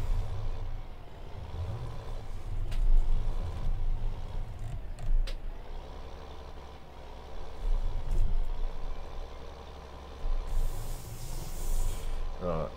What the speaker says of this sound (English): this combine seems to be doing a very good job